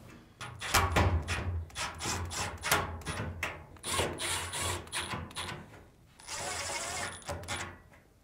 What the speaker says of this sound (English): Now, reinstall the 4 screws.